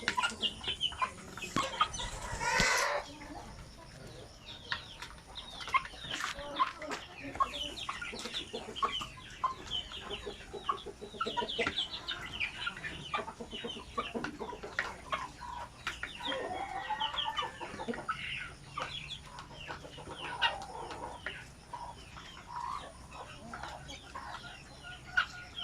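Basilan native chickens cluck and murmur close by in a busy, irregular stream of short calls, with a loud flurry near the start and scattered fowl sounds continuing throughout.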